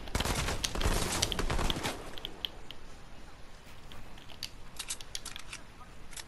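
Rapid bursts of gunfire from an online duos shooter game, dense and loud at first, then thinning into scattered sharp shots over a lighter background din.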